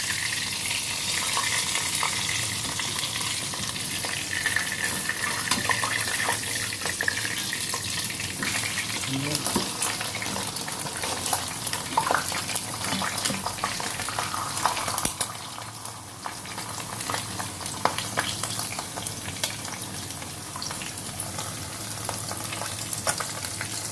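Tofu and pork frying in a wok (kawali), a steady hiss and crackle of hot oil with occasional stirring scrapes and clinks, continuous and close throughout.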